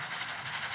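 A train in the Roblox video game gives a brief, steady hissing rumble, moderately loud and alone for under a second.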